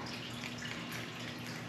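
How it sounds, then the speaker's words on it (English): Running tap water rinses a small spoon in a kitchen during a home baking session, a steady soft wash of flowing water at low level, close by and continuous, with no talk over it. "We'll rinse our wee spoon out."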